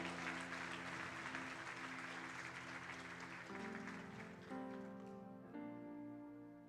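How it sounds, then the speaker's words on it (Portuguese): A church congregation applauds steadily over sustained keyboard chords that shift every second or so, the clapping thinning out toward the end as the music carries on. "Você pode aplaudir o nome do Senhor?"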